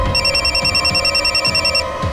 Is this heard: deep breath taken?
no